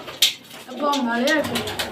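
Pigeons coo with low, throaty, wavering calls, mixed with faint voices and a short clatter near the start.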